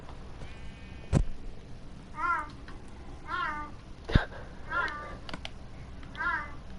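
Cat meows in Minecraft come every second or so, each a short rising cry, over low background noise with a couple of sharp clicks between them.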